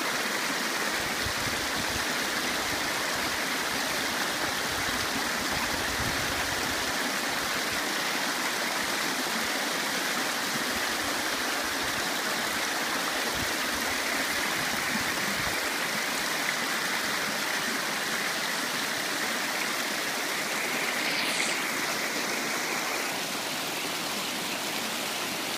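A mountain stream in the Bosnian countryside rushes steadily and close by, a dense, unbroken wash of flowing water that holds even for the whole stretch with no voices over it.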